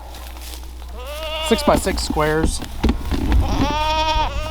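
Baby goats bleating on a small farm, several close, repeated wavering cries that overlap someone talking nearby.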